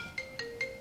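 A phone rings on a comedy stage in Paris, giving short repeating electronic tone bursts with a steady high pitch, fairly faint and alone.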